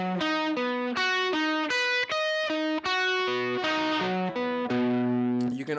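Distorted electric guitar plays a fast repeating string-skipping pattern of picked notes jumping between strings, loud and continuous, ending on a sustained chord.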